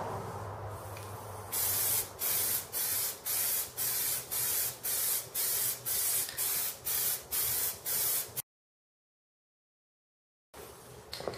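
Short bursts of aerosol spray hiss in a steady rhythm as a coating goes onto car wheels, about a dozen quick pulses close up, then a moment of silence.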